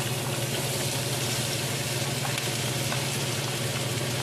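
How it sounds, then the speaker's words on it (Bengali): Chopped onions hit a preheated pan of hot oil while Bengali-style Chinese prawn noodles are being cooked, making a loud, steady, dense sizzle that fills the whole stretch with no talking. "আমার প্যানটা গরমই আছে, তাই পেঁয়াজগুলো দিয়ে দিই আমি।"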